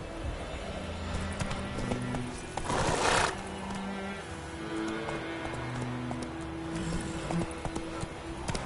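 Hooves of Roach, the horse in the video game The Witcher 3, clip-clop in a steady galloping rhythm throughout, with a louder burst around the third second over a bed of low game music and ambience.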